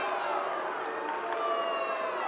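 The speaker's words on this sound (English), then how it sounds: "The crowd's asking for a stall" A crowd at the 2024 EIWA wrestling championship finals in a sustained roar of shouting and cheering that fills the whole moment, loud and unbroken.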